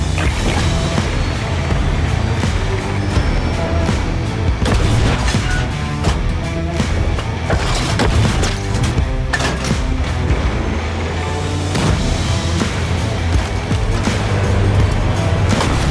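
Tank cannon fire in the video game Battlefield 6 RedSec, loud booming blasts and crashing impacts layered over dense, continuous combat noise for the whole stretch, no speech.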